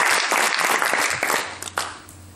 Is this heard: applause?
yes